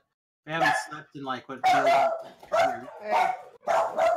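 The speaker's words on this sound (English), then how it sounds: "I apologize for the dog" A dog barks a few times in the background during a tabletop role-playing game session, mostly under steady conversation from several players.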